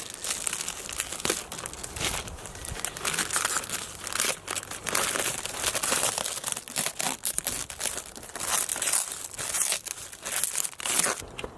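Protective covering being peeled slowly off a new Ford Super Duty part, giving a continuous close crinkling and crackling rustle with small tearing bursts throughout, and no talking.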